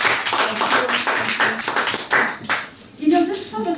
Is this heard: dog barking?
no